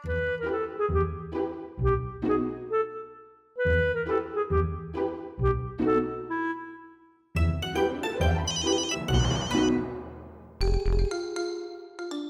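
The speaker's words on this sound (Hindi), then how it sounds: "चूचू को फोन करती हूँ।" A telephone rings with a melodic ringtone, a repeating bright chime pattern playing in several loud, clear phrases with short gaps between them.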